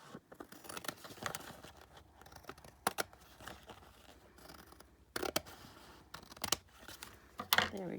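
Scissors snip through scraps of paper in short, separate cuts, with a few sharper clipping bursts standing out against a quiet background and no one speaking.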